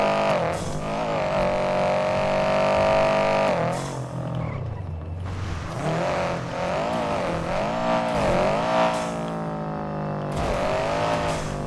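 A car engine in a video game revs steadily, its pitch rising and falling in repeated sweeps as it accelerates and eases off. It is loud and continuous, with no talking.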